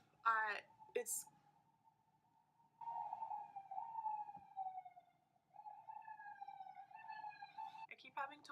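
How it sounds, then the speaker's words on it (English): Emergency vehicle sirens passing just outside a bedroom window, wailing tones that rise and fall in two long sweeps, fairly near, with brief bursts of speech at the start and end. "there's a lot of sirens, and the sirens come close outside my bedroom window and it gets really loud"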